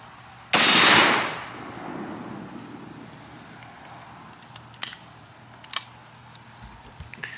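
A single loud gunshot at an outdoor range firing at RMA body armor, sharp and close with a decaying echo, followed by two faint distant impacts or clicks.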